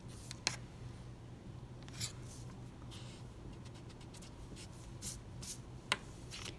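Pencil sketching on paper for a Veterans Day art drawing: soft, steady scratchy strokes close up, with a few sharper taps and quick marks scattered through, fairly faint and with no talking.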